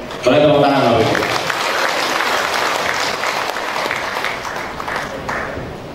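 An audience at the opening plenary session of a national meeting breaks into sustained, dense applause that carries on for several seconds, and a voice speaks briefly just before the clapping swells.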